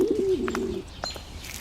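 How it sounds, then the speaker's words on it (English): Pigeons coo nearby, a low warbling coo followed by a few brief chirps and rustles in an otherwise quiet setting. "And keep your filthy pigeons somewhere else."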